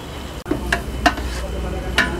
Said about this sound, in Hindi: ये जो हम सब्ज़ी का प्याज ब्राउन करेंगे, इसे हमने यहाँ सिर्फ हल्का सा ब्राउन करना है।